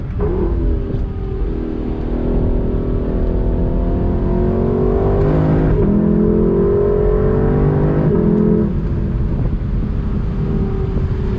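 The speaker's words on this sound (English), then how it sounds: "I'm sure you can hear that V8 sound" A Lexus LC 500 V8 engine accelerating on throttle, a steady loud engine drone with rising harmonic tones as revs climb, continuous throughout with some wind rush.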